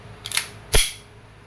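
EMG TTI Pit Viper airsoft gun firing, a faint mechanical click followed by one sharp snappy shot, close and brief.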